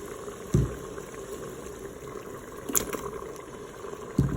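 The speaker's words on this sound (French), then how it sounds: "Je vais ajouter mes carottes." Carrots dropped into a pot of water in a Cookeo multicooker, giving a few soft plops and thuds spaced over a low bubbling, watery hum.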